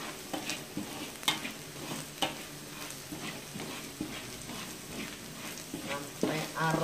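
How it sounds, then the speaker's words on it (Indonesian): Beef and spices sauté in a pan for beef semur while a spoon stirs them. Rhythmic scraping strokes repeat over a soft, steady sizzle, with faint voices in the background. "Kita aduk-aduk terus."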